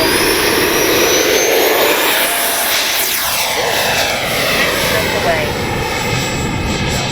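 Freewing 80mm F-5 Tiger II RC jet, flown with no flaps, screams through a takeoff, its loud high turbine whine sweeping in pitch as it passes and climbs fast, a steady roar throughout.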